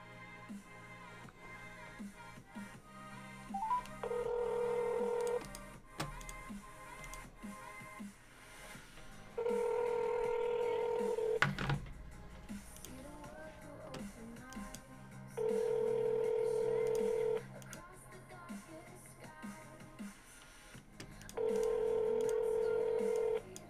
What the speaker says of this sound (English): I have to make a phone call to see if this person is up yet.